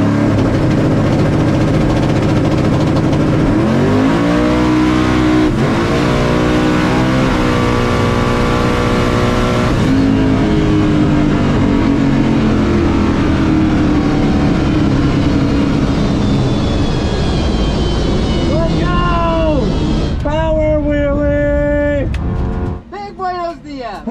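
Drag racing cars roar down a Christmas tree drag strip at a 2021 world championship event, engines revving and accelerating loudly and continuously, with rising engine tones, one car lifting its front end in a big power wheelie.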